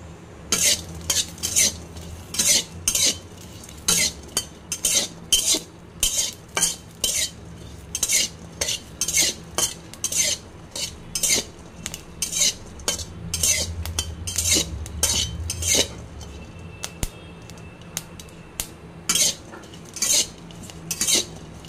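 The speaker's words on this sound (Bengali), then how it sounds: "মরিচ দিয়ে দিচ্ছি, মরিচ দিয়ে একটু নাড়াচাড়া করে নামাই নিব" Green chillies stirred and fried in a wok, a spatula scraping and clacking against the metal in quick repeated strokes over a low sizzle, close and loud, with no talk.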